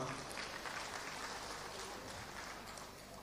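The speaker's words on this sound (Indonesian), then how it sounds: "Tepuk tangan buat beliau berdua." Audience applause at an evening stand-up comedy event attended by a provincial governor and vice governor, a steady, fairly faint wash of clapping that holds evenly throughout.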